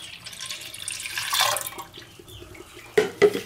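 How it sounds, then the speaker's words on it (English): Milky briquette binder liquid is poured into a sufuria pot, a soft trickling pour that swells in the middle, followed by two brief knocks of the pot near the end. "Looks like milk. Pour it in"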